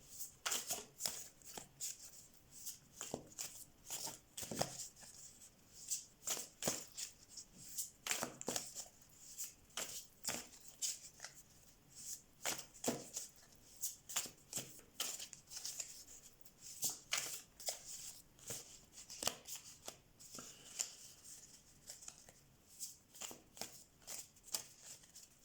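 Tarot cards shuffled by hand close up, with a long run of soft riffling and slapping bursts in an uneven rhythm. No talking is heard over the cards.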